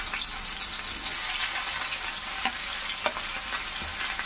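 Chopped onion fries in a pan with a loud, continuous sizzling hiss, punctuated by a few faint stirring clicks near the end.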